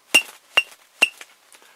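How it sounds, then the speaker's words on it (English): A Super Mario hammer plush toy banged on the ground gives three bright, evenly spaced clinking chimes, close and clear, followed by a faint trailing ping. "because this is a Mario hammer plush. And when you bang him on the ground, he makes that noise"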